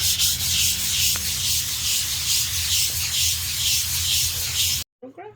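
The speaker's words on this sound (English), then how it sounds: "It's a beautiful day for using some 80 grit sandpaper on this for the dragon plaque." Coarse 80 grit sandpaper rubs across a wooden dragon plaque outdoors in steady, rhythmic back-and-forth strokes, loud and close, ending abruptly.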